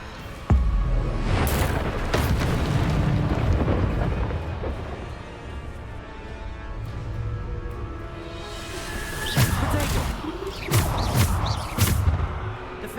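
Bombarda spell blasts in Hogwarts Legacy combat land as heavy booming impacts, one sharp hit early and a cluster of crashing bursts later, over a continuous loud rumbling game mix.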